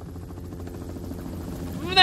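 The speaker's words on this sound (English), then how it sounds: "Remember that helicopter we saw?" A helicopter in a Resident Evil 2 video game cutscene thrums with a steady pulsing rotor beat under low rumble, building to a louder burst at the very end.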